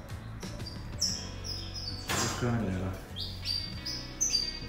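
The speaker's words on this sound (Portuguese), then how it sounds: "Desculpa o barulho aí dos passarinhos, dos carros." Small birds chirp repeatedly in bursts of short tweets, moderately loud and near, heard inside a home garage along with background rumble and someone speaking over them.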